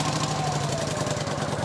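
The engine of a Kawasaki VN900 Classic motorcycle with a battery charging fault runs at a steady, loud, close idle right after the key is turned. The mid-pitched throb is even and carries on throughout.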